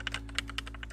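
A new computer keyboard clacks under fast typing during a TETR.IO game, with about a dozen crisp, close keystrokes coming in quick, uneven bursts over a low steady hum.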